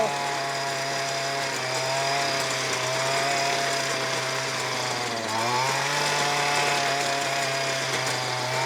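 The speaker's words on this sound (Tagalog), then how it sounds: "kung may grass cutter na po kayo at kailangan nyo lang po ng attachment na kagaya po nito, tiller attachment" Two-stroke engine of a grass cutter fitted with a tiller attachment, tilling weedy soil: a steady, loud buzzing drone with a brief dip and rise in revs partway through, running throughout.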